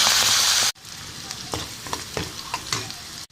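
Fenugreek leaves and curry leaves hit hot oil with mustard seeds and cumin, a loud burst of sizzling that cuts off abruptly, followed by quieter crackling and spatula scrapes in the pan, no talk.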